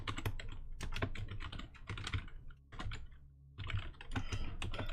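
Rapid typing on a computer keyboard during a hacking game session, a close, continuous patter of keystrokes in bursts separated by brief pauses.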